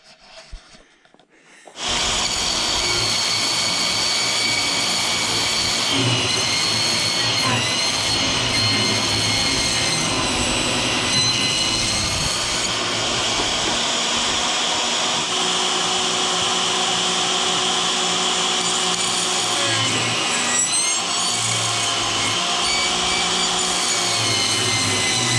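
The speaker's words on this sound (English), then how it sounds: "So brought out the little dual table saw just to make things go a little easier." A small dual table saw cuts through insulation board at a cabin build, its loud steady whine running continuously for over twenty seconds after a brief quiet start, with slight shifts in pitch as the blade bites.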